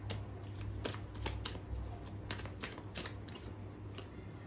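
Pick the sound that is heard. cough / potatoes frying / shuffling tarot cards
shuffling tarot cards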